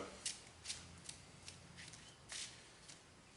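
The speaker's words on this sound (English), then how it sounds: "Gotta shuffle up my deck" A deck of Yu-Gi-Oh! cards is shuffled by hand in a quiet room, heard as a quick series of soft, crisp riffling bursts close to the listener, with a slightly longer flurry near the end.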